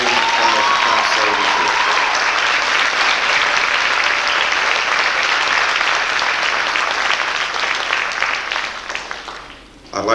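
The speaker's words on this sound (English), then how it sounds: "Ladies and gentlemen, let's give them a round of applause." Sustained, dense applause from a large audience honoring a graduating class at a 1993 pass-in-review graduation ceremony, steady and loud for about ten seconds before briefly dipping near the end, with some voices mixed in.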